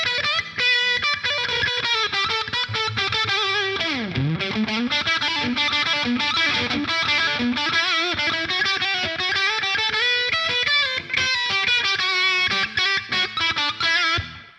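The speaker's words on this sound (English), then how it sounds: "it's Definitely rips with the distortion" Gibson Les Paul Junior electric guitar played through heavy distortion, dense chords and riffs ringing loud and continuous with a brief bending slide partway through.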